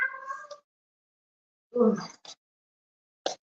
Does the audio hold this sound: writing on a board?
no